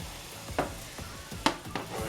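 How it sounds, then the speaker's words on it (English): Country style pork ribs sear in a hot copper pan with a steady sizzle, broken by a few sharp pops and crackles as the meat fries, close and alone. "But it's hot, you can hear it sizzling."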